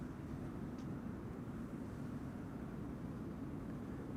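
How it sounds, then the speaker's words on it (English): An Emirates Boeing 777-300 airliner passes high overhead near Amsterdam Schiphol Airport, a faint, steady, distant roar of jet engines with a broad rushing hiss and no distinct peaks. "It's an Emirates 777-300."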